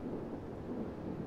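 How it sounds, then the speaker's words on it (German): Faint, distant thunder rumbles under steady rain during a storm in the naval battle game World of Warships, a low continuous grumble with no voices. "Ich höre auch Gewitter."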